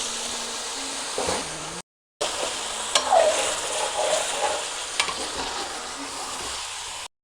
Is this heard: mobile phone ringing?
no